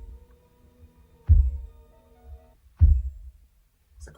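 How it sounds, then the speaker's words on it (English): Deep, booming heartbeat thuds open a song, two heavy low pulses spaced well apart over a faint hum, then a softer third hit, with no talking. "It's like a heartbeat."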